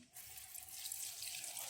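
Water gushes steadily from a kitchen sink tap and splashes into the basin with a bright, continuous hiss after a brief start. It sounds close and stays steady, with no speech.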